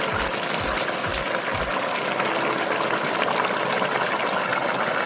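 A pot of beef tripe curry bubbles on a stove, a steady dense boiling hiss with a few low thumps near the start, close and continuous.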